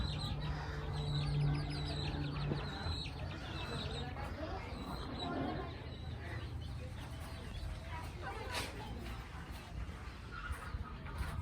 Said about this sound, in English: Over here we have the baby chicks.